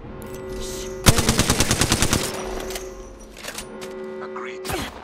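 Automatic gunfire in the video game Apex Legends during a ranked arena match: a loud rapid burst of about a dozen shots over roughly a second, then quieter game sounds and another sharp shot near the end.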